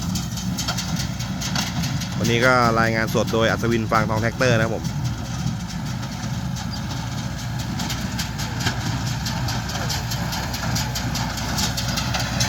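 A steady mechanical drone of a New Holland hay baler powered by a Yanmar tractor, running in an open rice field, with someone talking briefly over it near the start.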